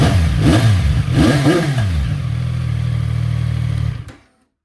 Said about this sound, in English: Sounds pretty good for the 3-cylinder. Give it a little bit of revs.